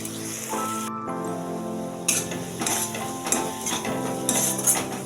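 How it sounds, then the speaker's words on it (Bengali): Meat being stirred and sautéed in a pan, with scraping strokes and a soft sizzle under steady tonal background music. "মাংসটা একটু কষে নেব"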